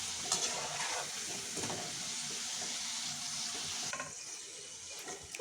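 Samosas shallow frying in oil, a constant fizzing sizzle close by with occasional soft knocks of a utensil, the bubbling easing slightly near the end.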